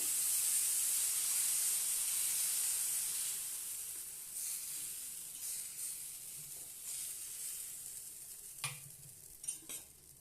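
Thick wheat-flour tomato and onion dosa batter sizzling on a hot oiled griddle, with a loud steady hiss of frying oil that gradually softens, then a few scraping and spreading sounds near the end.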